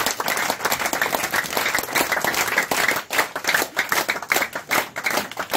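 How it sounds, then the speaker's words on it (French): A church congregation at a Côte d'Ivoire revival gathering applauding to acclaim Jesus, dense, sustained clapping from many hands filling the room, loud and close throughout. "On acclame Jésus"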